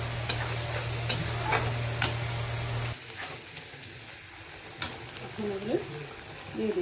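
Masala with a little sugar is sautéed in a pan, giving a soft sizzle with intermittent scraping stirs and light knocks, fairly quiet throughout, with a faint voice briefly near the end.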